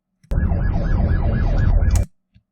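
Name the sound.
police car sirens during chase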